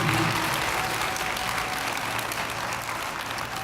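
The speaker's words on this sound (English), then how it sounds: "Can we get a big hand clap for the principal?" A school audience at an elementary African American history celebration applauds the principal with steady, dense clapping throughout, with faint crowd murmur beneath.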